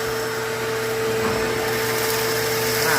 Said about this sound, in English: I've lost all my attachments to my vacuum cleaner.